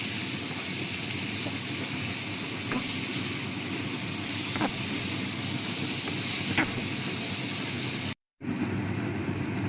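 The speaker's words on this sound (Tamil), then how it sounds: "மற்ற எண்ணெயில் வதக்கினாத்தான் நல்ல டேஸ்டாக இருக்கு கறி." Mutton sautés in oil with masala for a village-style Tamil curry, giving a steady, close sizzling hiss with faint stirring scrapes throughout and one brief dropout near the end.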